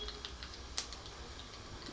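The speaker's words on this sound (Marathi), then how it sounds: "मोहरी छान तडतडली आपली" Mustard seeds splutter in hot oil for chiwda made with puffed jowar, a scatter of faint quick ticks and pops with one sharper crack, close and quiet with no talk.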